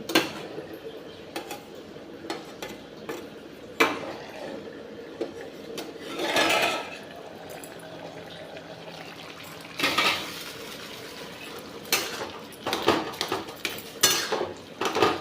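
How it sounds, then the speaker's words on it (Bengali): A metal lid comes off a cooking pot of simmering potatoes and tomatoes, with scattered clinks and clatters of cookware and utensils, a short metallic rattle and a soft bubbling hiss between quieter pauses. "এবারে আমি ঢাকনাটা একবার খুলছি"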